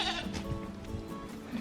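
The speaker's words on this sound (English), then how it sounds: "these are our goats" Goats, including La Mancha-Boer crosses and Nigerian dwarfs, bleat close by on a farm, a couple of short wavering calls over faint background noise.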